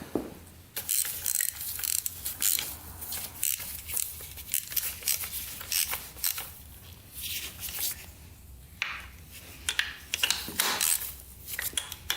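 A ratchet tightens bolts on a locked-up barn find dirt bike. Quick clicking strokes repeat in close, irregular bursts throughout, with no talking.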